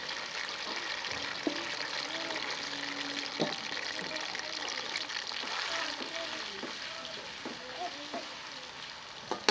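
Finely chopped onions fry in hot oil for a fish karahi, giving a steady, dense sizzle that runs unbroken throughout while a faint voice murmurs underneath.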